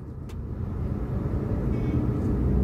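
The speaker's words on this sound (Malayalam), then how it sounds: "ചെറിയ രീതിയിൽ ക്ലച്ച് റിലീസ് ചെയ്ത് ആക്സിലറേറ്റർ കൊടുത്ത് മുന്നോട്ട് പോവുകയാണ്" A car pulls away in first gear after a gentle clutch release, its engine a steady low rumble that swells gradually as it accelerates, with no voices over it.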